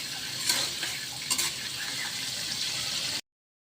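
Dried hilsa fish fries in a pan with a continuous bright sizzle, punctuated by a couple of sharper scraping stirs, close and steady before cutting off abruptly.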